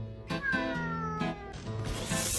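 A kitten meows several times in quick succession, loud and close, with harmonic cries rising into a drawn-out caterwauling wail, no talking.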